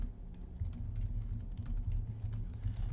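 Rapid typing on a computer keyboard, a dense, steady patter of close key taps over a low hum, with no voices.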